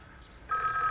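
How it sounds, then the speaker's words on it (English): A telephone starts ringing abruptly halfway through, a bright electronic ring after a near-silent opening, heard alone with no talk. "Oh, it's my phone."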